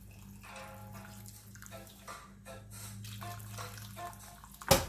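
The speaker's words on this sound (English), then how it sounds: "I'm going to add some hot water here just to cover this" Hot water runs steadily into a pot of char siu pork marinade, a continuous close pouring and splashing sound that ends in a brief louder clatter.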